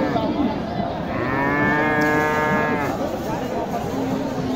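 A cow at a cattle market lets out one long, loud moo that rises and fades, set against a busy crowd murmur of people talking nearby.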